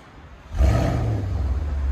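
A 2010 Porsche Panamera Turbo with a 4.8L V8 and stock exhaust revs up from idle, a loud deep roar that swells suddenly and holds steady, recorded close.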